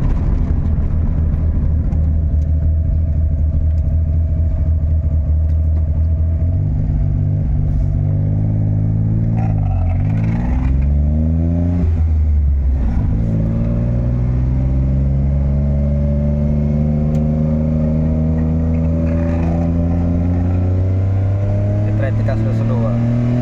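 A modified Perodua Kancil with a 73 mm piston and an L2S engine idles steadily and then revs up and down in several rising and falling sweeps. The engine stays loud and close throughout, and speech runs over it.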